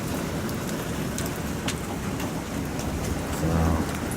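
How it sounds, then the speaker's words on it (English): Hail coming down outside a doorway in cold weather makes a dense, steady patter and hiss throughout, with a slight swell near the end and no voices. "the temperature outside seems to be cold enough to let the hail come down"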